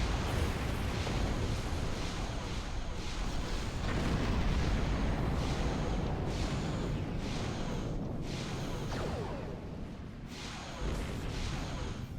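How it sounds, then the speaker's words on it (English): Torpedo strikes blowing up shuttles in a space combat video game, a continuous dense rumble of explosions with rolling bursts and blasts, loud and sustained. "Shuttles seem to blow up no matter what you do with the torpedo."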